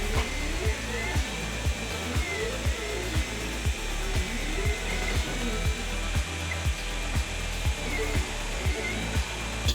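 An ORTUR Laser Master 2 laser engraver cutting, its steady fan whine under a regular rhythm of short mechanical thumps from the moving gantry, about two per second, close and continuous.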